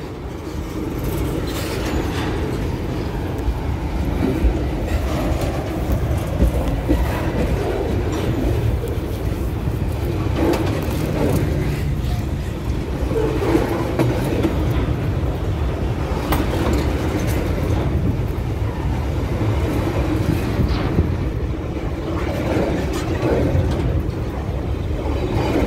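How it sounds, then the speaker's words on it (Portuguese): A freight train passing close by with a steady, heavy rumble and continuous rattling clatter of wagons on the rails, loud and unbroken for the whole stretch. "O trem agora está correndo"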